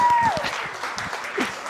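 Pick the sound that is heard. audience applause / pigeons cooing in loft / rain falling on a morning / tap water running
audience applause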